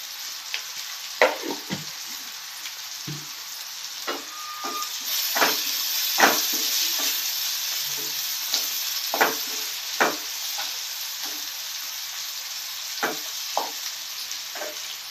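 Ginger garlic paste and chili powder fry in a pan for a fish curry, a soft steady sizzle under repeated scraping stirs and taps of a spoon, close and without talk.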